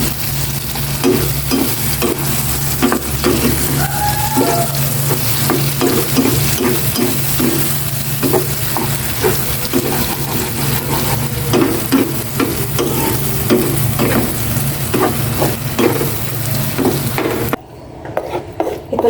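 Eggplant omelette with egg sizzles loudly in a frying pan as a utensil stirs and scrapes in quick repeated strokes, steady frying noise throughout until it cuts off near the end.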